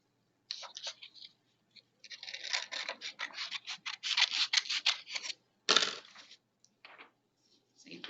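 Scissors snip out a paper binder tab in a run of close, crisp cuts, with short pauses between bursts and one louder snap near the end.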